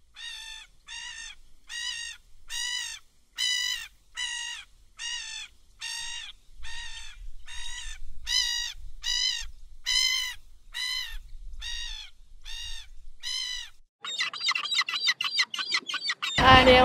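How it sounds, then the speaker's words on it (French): Barnacle geese call at low tide on the Cornish coast, giving a regular series of loud, nasal single honks spaced about a second apart, followed at the end by a faster run of overlapping calls. "Tu vois là-bas, les oies de bernache."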